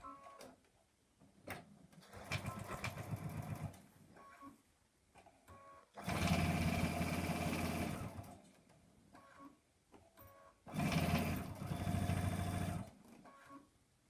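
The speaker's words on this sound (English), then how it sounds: "And we're sewing." A sewing machine stitches over folded fabric binding and a pleat, running in three close, loud bursts separated by pauses, with no talking.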